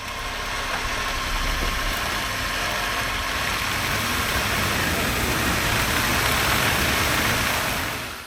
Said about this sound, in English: As you can see, the drum is spinning and only putting a small amount of torque onto the line.